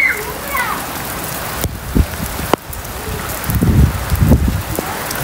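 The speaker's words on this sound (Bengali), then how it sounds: "খুব ঠান্ডা বৃষ্টির জলটা আছে" Cold rain falls steadily outdoors near a toppled plant after strong wind, making a continuous dense hiss with scattered close drops and patters that swell and fade, accompanied by a few brief knocks.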